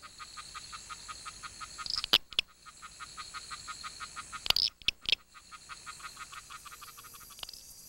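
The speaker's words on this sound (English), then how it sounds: "This one is calling at night, but Lysapsis is commonly heard calling in the daytime" A Lysapsis frog calls at night in Paraguay, giving a steady train of rapid, evenly spaced pulsed notes that repeat close by, broken by a few sharp louder bursts from other callers.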